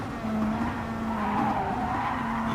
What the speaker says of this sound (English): He's drifting that car through the corners and he's braking a little too late there.